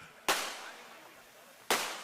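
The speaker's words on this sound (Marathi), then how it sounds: "तिकडचे फटाके थांबवा, तिकडचे फटाके थांबवा" Firecrackers bursting at an outdoor political rally, two sharp loud bangs about a second and a half apart, each trailing off in a crackling echo.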